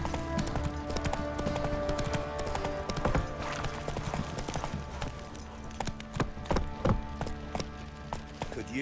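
Hooves of Roach, a horse in The Witcher 3: Wild Hunt, clip-clop steadily at a walking pace, close and clear, with a few louder hoof strikes toward the end and no speech.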